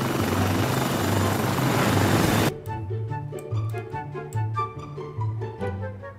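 A helicopter in a video game, its rotor beating with a steady thumping drone. A loud burst of broadband noise opens, then cuts off, leaving the rotor beat throbbing on its own.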